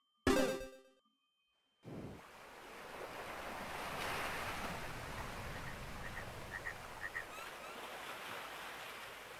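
Ocean surf washes steadily in the Ocean Hub area of the video game Fez, a continuous soft roar of waves with a brief plucky musical phrase at the start, then a short silence before the surf swells in.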